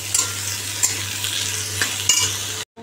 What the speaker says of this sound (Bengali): এই উচ্ছে ভাজছি এখন, উচ্ছে কুমড়ো ভাজা